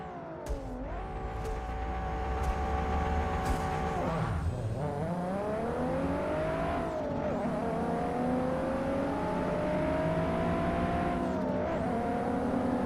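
Racing car engine in a Gran Turismo 7 race, holding a loud, sustained high-revving drone with brief dips at gear changes and a short tire squeal, continuous and close for the whole stretch.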